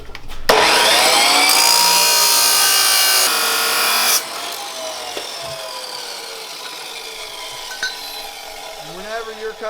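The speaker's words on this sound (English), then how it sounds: "Whenever you're cutting metal at your house" Harbor Freight power saw cutting seamed metal pipe at home, a loud, harsh high-pitched screech in two bursts of about three and one second, then ringing and squealing metal tones as the cut winds down.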